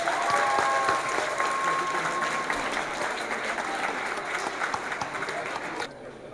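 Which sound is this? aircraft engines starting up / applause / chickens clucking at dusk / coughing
applause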